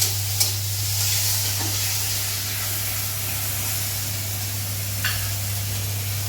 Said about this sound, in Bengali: মেয়ে রান্না করছে, আগে টমেটো দিয়ে দিল তেলে, সামান্য একটু তেল দেওয়া আর কি।